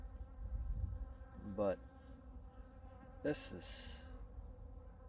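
Honeybees buzz at a watering hole on a hot, windy day, a soft steady drone with a few louder passes as single bees fly close; someone speaks briefly.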